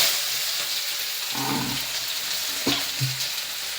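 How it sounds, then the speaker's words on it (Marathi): Cut potatoes go into hot oil in a home kitchen with green chillies already in the pan, giving a steady sizzle that swells into a louder crackling burst midway, then settles back to frying hiss. "आता मी कट केलेला बटाटा टाकणार आहे"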